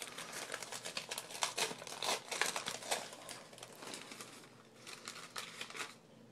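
Christmas gift wrapping paper being ripped open, a steady flurry of loud, close crinkling and tearing with several stronger rips, continuing for several seconds without speech.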